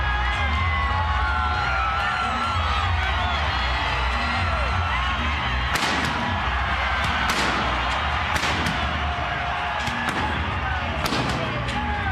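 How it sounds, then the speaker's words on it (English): Sharp booming bangs of indoor fireworks burst over a loud, sustained roar of an arena crowd at a boxing event in the Mandalay Bay Event Center, several reports spaced across the second half. "Fireworks just scared the you-know-what out of everybody around here."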